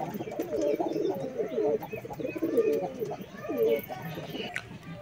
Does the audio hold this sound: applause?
no